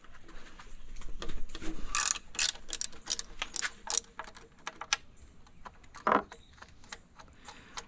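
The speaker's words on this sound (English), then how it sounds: "we're gonna get in here with our 14 millimeter ratchet wrench" A 14 mm ratchet wrench works bolts loose on a Suzuki outboard motor, giving quick, close clicking runs of the pawl with a few sharper metallic knocks.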